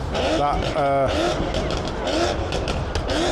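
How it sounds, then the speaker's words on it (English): Numerous performance cars, including C63s, V10 M5s and RS4s, rev their engines together in a rev-off at a car event, a constant dense roar close by, with people talking over it. "there are still loads and loads of cars doing revs off"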